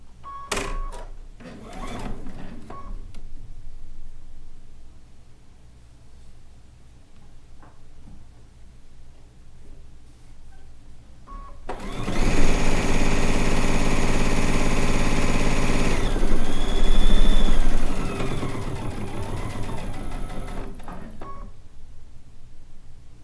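A sewing machine runs a seam on a rag quilt, a dense whirring burst of rapid stitching lasting about ten seconds after scattered clicks and handling noises, then stopping abruptly to quieter fabric movement.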